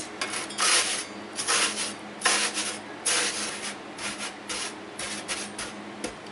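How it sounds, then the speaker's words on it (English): Freeze-dried maple tree sap is scraped and mashed down in a container, giving repeated rough, gritty scraping strokes in an irregular rhythm, close and fairly loud, with no voices. "I'm not gonna bore you with this long scraping"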